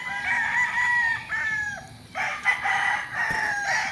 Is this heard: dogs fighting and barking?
no